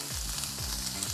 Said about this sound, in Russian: Зеленые овощи добавляем в сковородку.